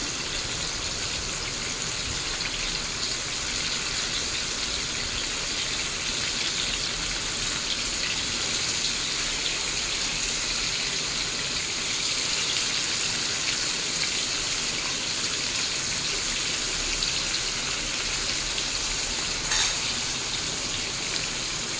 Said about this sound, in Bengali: চিকেনটাকে একটু লাল মতো করে ভেজে নেব